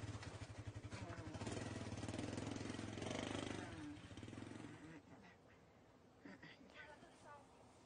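A motorcycle engine idles steadily and close by for the first few seconds, then drops away, leaving quieter background sounds and short bursts of activity.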